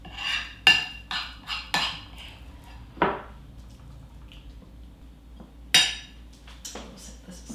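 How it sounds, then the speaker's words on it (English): Spoon clinking against a bowl while beer cheese dip (Obatzda) is transferred into a nicer bowl: scattered sharp clinks and a scraping tap, several close together, then a pause and another bright clink near the end, no talking. "So now I want to transfer this into a nicer bowl."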